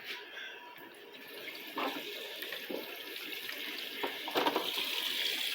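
Water runs steadily into a Hippo Super Hippor 12 kg washing machine as it fills during its self-cleaning cycle, a continuous moderate rush with a few soft splashes and clunks, close by with no talking.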